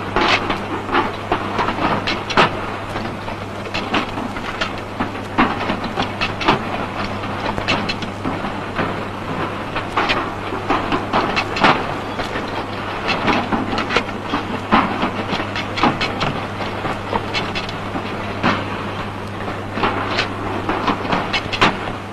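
A squeezer machine in a 1940s tin factory joins tops and bottoms to tin bodies with a loud, continuous rhythmic clatter over a steady mechanical hum.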